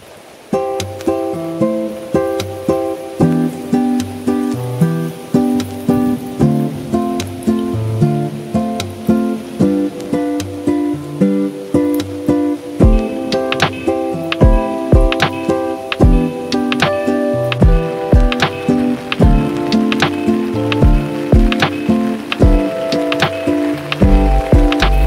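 Heavy monsoon rain pours down in a village, a steady loud wash with sharp drops ticking and splashing on nearby surfaces, continuous throughout with no talking.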